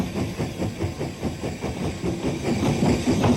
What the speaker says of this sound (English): the locomotive known as Gothenburg leaves the station shed with its coaches